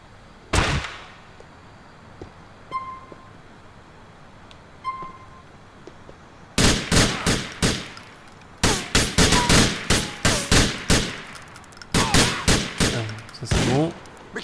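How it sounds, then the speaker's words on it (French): Gunfire in the video game GTA IV: a couple of isolated shots early on, then dense rapid bursts of automatic fire in repeated volleys, loud and close. "Il tire dans le vide le mec."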